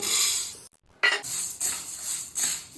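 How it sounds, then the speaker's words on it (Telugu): A spoon scrapes and stirs urad dal as it dry-roasts in a pan for sunnundalu sweets. Close, repeated scraping strokes come with a brief pause, and no one speaks. "ఇప్పుడు ఉద్దిబేడలను కలర్ మారినంత వరకు ఎంచుకోవాలి."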